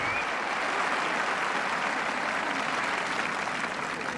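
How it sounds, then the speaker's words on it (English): A large crowd at a 1977 Wimbledon men's singles semi-final between Borg and Gerulaitis bursts into sustained, loud applause and cheering that fills the whole stretch evenly. "a tremendous cheer for his opponent"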